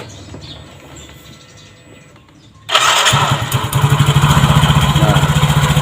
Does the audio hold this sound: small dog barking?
no